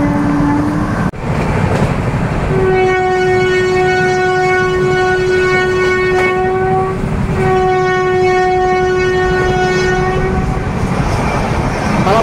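LTT Express passenger train overtaking a goods train at about 130 km/h: steady loud rail roar with a long sustained horn blast, then a second horn after a short break, heard onboard.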